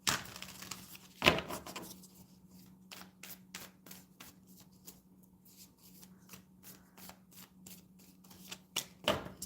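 Tarot cards being shuffled and one drawn, with a quiet run of soft, regularly spaced riffling flicks between two louder handling bursts near the start and end, close and with no talking.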